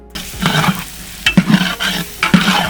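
Tomatoes, chillies, turmeric, red chilli powder and salt stirred in a large pot for a big batch of veg pulao, heard as loud, close scraping strokes of a spoon with sizzling, repeating every second or so.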